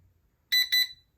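Samshow rechargeable digital kitchen timer alarm on its medium volume setting, giving two short, bright electronic beeps in quick succession, close up and alone.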